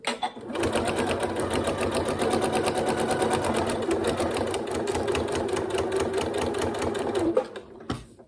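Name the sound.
sewing machine stitching a zipped pencil case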